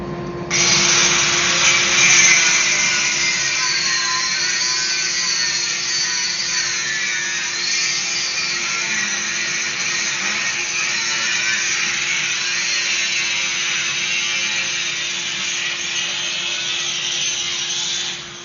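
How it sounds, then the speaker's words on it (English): A small grinding wheel runs steadily against a hot ball bearing Damascus steel billet at a forge, giving a continuous high, harsh whine with a low hum beneath, close and loud for about eighteen seconds without a break. "When these billets are hot, you sure go through the little grinding wheels a lot quicker."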